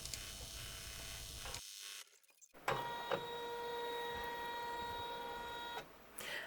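Embroidery machine sewing a triple stitch around an in-the-hoop scallop pouch: a steady, whirring mechanical hum with a brief pause, then a resumed tonal drone with small clicks, fairly close and without talk.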